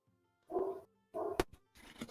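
A dog barks in three separate bursts, close and fairly loud, with short gaps of silence between them and no talk over the sound.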